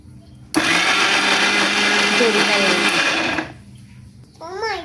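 An electric blender grinds ginger and garlic: a loud, steady whirring roar cuts in abruptly, runs about three seconds and stops, followed by a brief bit of speech.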